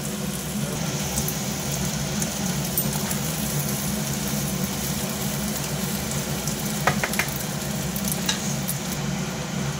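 Pasta with egg bhujia frying in a pan while being stirred and mixed, a continuous close sizzle with occasional spatula scrapes and clinks, no talking.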